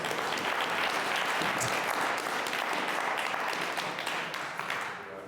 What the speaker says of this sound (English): Give your pastor a big round of applause.